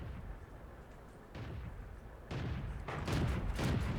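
In a World of Tanks battle, a British Cruiser Mk. 4's cannon fires. Muffled low booms and blasts rise over a faint rumbling backdrop, growing louder toward the end, with no talking.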